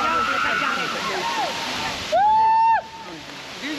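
Water pours steadily at Brihaspati Kund waterfall in Panna, Madhya Pradesh, a constant broadband rush filling the whole clip, with a voice speaking over it and a brief louder burst near the middle.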